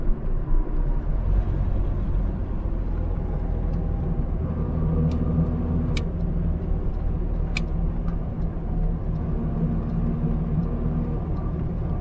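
A Polski Fiat 126p drives through a roundabout in traffic, its small engine giving a steady low droning rumble with road noise throughout, plus a few faint brief ticks and clicks.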